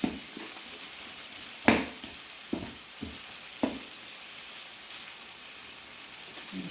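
Corned beef frying in a pan gives a quiet, steady sizzle, broken by a few sharp scrapes and taps as it is stirred.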